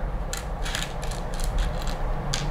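Screwdriver turning screws into a Tamiya Comical Grasshopper model kit, producing a series of small ratcheting clicks and brief creaks in short repeated bursts, close and fairly quiet, with no talking.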